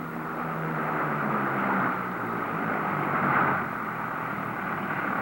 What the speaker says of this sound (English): Mission completed, the OV-1 returns to its base, the Division Instrumented Airfield.